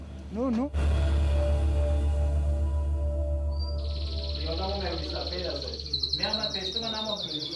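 Caged birds kept in a prison give a sustained high whistle-like call along with warbling chirps, heard over a loud low hum, with a brief tonal call right at the start.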